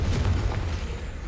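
A Confringo blasting spell goes off in Hogwarts Legacy, a deep rumbling boom that swells at once and rolls on as a low, heavy roar for over a second, alone with no talk.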